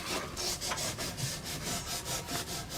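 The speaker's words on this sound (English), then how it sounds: "Sanding blocks work good" Rhythmic back-and-forth rasping of a sanding block on wood, about a dozen even strokes close up, steady and moderately loud with no talking.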